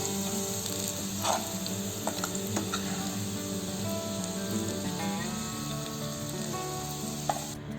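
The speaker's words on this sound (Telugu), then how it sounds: "సేమ్ ఆయిల్లో టొమాటోస్ వేసుకున్నాము. ఇది కూడా మెత్తగా మగ్గిపోయే వరకు మనం ఉడికించుకోవాలి." Tomatoes frying in oil in a pan, steady close sizzling with crackling pops and a few scattered utensil taps, continuous throughout.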